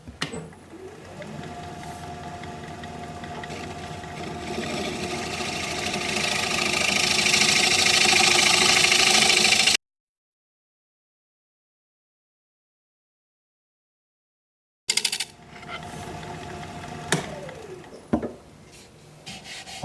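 A wood lathe hums while a scraper rubs inside a spalted maple bowl, building to a louder rasping, then a silent gap before the hum and scraping resume with a few knocks.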